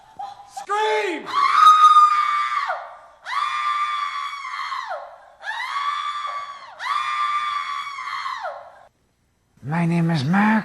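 Loud, sustained screams in a furniture store commercial: several long, high, wailing cries in a row, each trailing off, then a short lower shout at the end.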